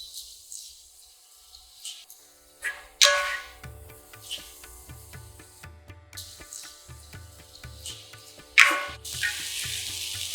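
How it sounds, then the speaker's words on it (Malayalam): Chopped carrot sautéed in a pan for a potato masala, with a steady soft sizzle, stirring scrapes and a couple of sharper clatters of utensil against the pan, close and alone. "1/4 കപ്പ് നന്നായി അരിഞ്ഞ ക്യാരറ്റ് ചേർത്ത് 1 മിനിറ്റ് വഴറ്റുക"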